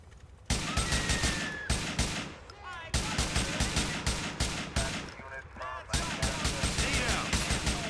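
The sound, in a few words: gunfire from a video game, Grand Theft Auto IV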